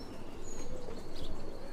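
Canadian tippler pigeons coo softly inside a loft, with a low murmuring warble and faint chirps over a steady background hum.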